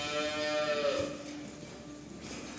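Cattle lowing on an Italian dairy farm, with one clear, drawn-out moo rising and fading against steady barn ambience, close and moderately loud.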